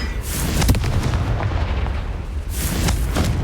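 A Confringo fire spell blast in Hogwarts Legacy erupts as a heavy, booming explosion with a rumbling low roar and crackling bursts, loud and close, swelling again near the end with no talk.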